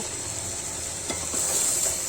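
Chicken in a paste of ground ash gourd peel being stirred and fried in hot oil, a steady close sizzle with a few soft scraping stirs partway through, no voices.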